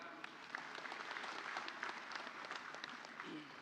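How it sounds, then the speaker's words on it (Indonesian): Steady applause from a large audience at an Ansor youth organization gathering, a continuous dense patter of many hands heard from a distance, fairly faint, holding evenly for a few seconds with no talk over it. "kita berikan aplaus"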